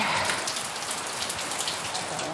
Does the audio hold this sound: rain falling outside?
yes